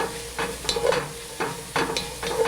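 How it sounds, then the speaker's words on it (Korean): Dried pollack and garlic stir-fried in a pan for pollack soup, giving a close, steady sizzle broken by repeated scraping strokes of the stirring utensil, with no talk. "마늘도 같이 넣으시고 달달달 볶으면 북어가 이렇게 오그러들어요"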